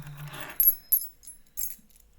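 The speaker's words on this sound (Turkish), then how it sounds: "Anahtar sesim de çok çıktı muhtemelen." Keys jangle softly and close by in a few short bursts, with quiet pauses between the metallic clinks.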